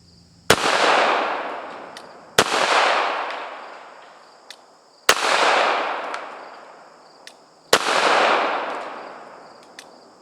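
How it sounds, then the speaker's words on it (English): Four loud single gunshots from a Sig Sauer P220 Match Elite pistol, fired at spaced intervals of about two to three seconds, each a sharp crack followed by a long echoing decay, with no talking. "I'm going to be taking some shots with my brand new Sig Sauer Match Elite"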